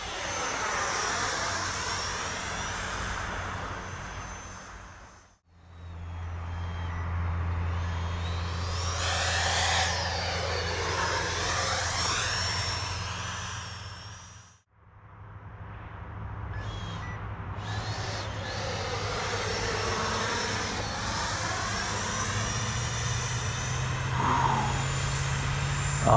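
FlyFans 70mm JAS-39 Saab Gripen RC electric ducted-fan jet, a continuous high whine that rises and falls as it passes back and forth, with two brief throttle cuts to near silence.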